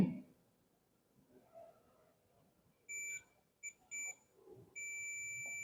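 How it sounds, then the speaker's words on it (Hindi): Faint background murmur, then a high multimeter continuity beep sounds in a few short blips before holding as a steady continuous tone while testing a refrigerator defrost timer. "देखिए बीप साउंड आ रहा है और रेजिस्टेंस वैल्यू दिखा रहा है ये"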